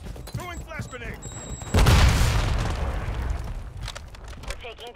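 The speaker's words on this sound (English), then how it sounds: "Throwing flash grenade." A flash grenade detonates in Call of Duty Modern Warfare 3 Domination on the Tokyo map: a sudden loud blast partway through that decays into a long rumbling wash, with gunfire and a voice calling out before and after.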